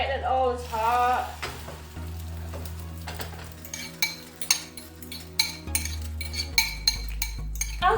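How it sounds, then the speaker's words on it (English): Eggs sizzle in a hot pan with a steady crackling hiss, punctuated by scraping and clinking of a utensil against the pan. "that's the African way of frying eggs"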